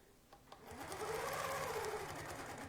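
Longarm quilting sewing machine stitching steadily along a quilt seam, a continuous close mechanical whir with rapid needle rhythm that swells and holds for a few seconds after a couple of soft clicks.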